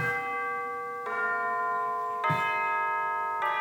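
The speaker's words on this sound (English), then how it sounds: "So we've got tubular bells, which I just love." Tubular bells in an orchestral arrangement of Carol of the Bells ring out in four loud, bright strikes, each sustaining a shimmering, church-like tone with long overlapping decay.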